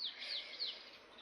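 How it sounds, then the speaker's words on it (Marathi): A few thin, high chirps repeat quickly over a quiet hiss, faint and brief. "पक्ष्यांचा थवा"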